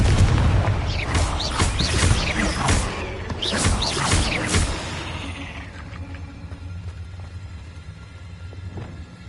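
Hogwarts Legacy video game Confringo blasting spell, a loud burst of explosive booms and crackling impacts in the first half that fades into a quieter rumbling tail.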